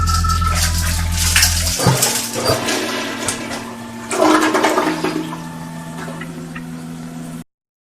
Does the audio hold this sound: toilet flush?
yes